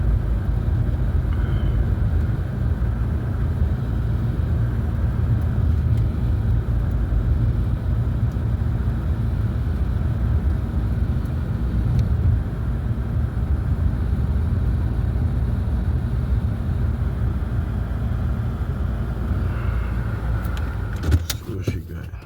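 A custom Losi NASCAR GT 1/12 scale RC car running on a 3S parallel battery during a night run, a steady continuous motor whine and rumble holding close and fairly loud throughout, with a brief clatter at the end.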